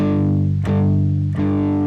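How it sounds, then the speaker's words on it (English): Palm-muted power chords are played on a distorted electric guitar: two short chugging strums a fraction of a second apart, each muffled and sustained with a thick, buzzing tone. "If I play muted power chords, it sounds like this."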